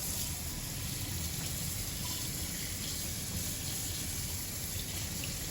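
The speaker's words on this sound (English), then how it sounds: "get in here and rinse it off" Raw pork is rinsed under a running kitchen tap, a steady, close hiss of splashing water that continues without break.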